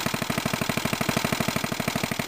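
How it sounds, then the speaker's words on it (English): A small engine drives a Goulds piston water pump, running with a steady rapid chugging pulse of even strokes over a constant mechanical hum, near and moderately loud throughout. "So I just gotta prime it, put water in there, and start up the engine."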